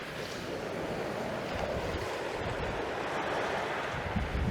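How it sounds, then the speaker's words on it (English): Choppy sea waves wash against the shore at Penmon Point on Anglesey, a continuous broadband surf roar mixed with gusting wind buffeting the microphone, no voices. "Choppy sea."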